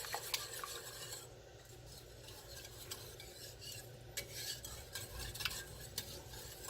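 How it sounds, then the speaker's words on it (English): A spoon stirs curry chicken soup, three cans of evaporated milk mixed in, as it heats toward a boil in a pot; steady close scraping and swishing with soft clinks and a low background hum, no talk. "What I'm going to do is continue to mix this as I bring it up to temperature."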